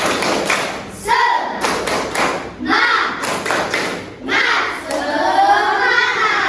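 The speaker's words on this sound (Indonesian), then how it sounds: "Oke, tepuk semangat." A school class performing a rhythmic clapping chant, sharp bursts of claps and thumps in repeated patterns with shouted voices between them, loud and close, with a teacher speaking in the gaps.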